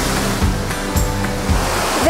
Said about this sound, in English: Crazy adrenaline rush when you come behind the waterfalls. It's so loud